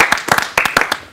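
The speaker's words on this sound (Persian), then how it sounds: "چک بکنید برش کف بزنید" Audience clapping and applause on a TV show, a brief burst of quick, rhythmic hand claps close and loud, several people clapping together.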